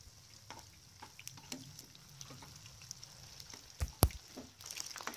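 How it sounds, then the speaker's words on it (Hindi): Coated paneer pieces frying in oil in a pan over a medium flame, a soft steady sizzle with light crackles and a couple of sharp clinks near the end, quiet and close. "इसे मीडियम फ्लेम पर फ्राई करें।"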